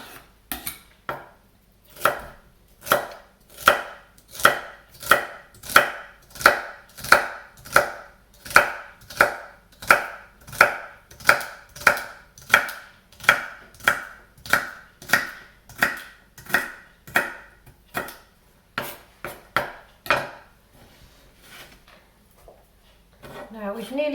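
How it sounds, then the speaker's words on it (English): Knife chopping celery and mushroom into small pieces on a board: a long run of steady, evenly spaced sharp cuts, close and fairly loud, slowing and stopping near the end, with no talk. "I'm not going to grate the celery, I'm going to cut it up into small pieces"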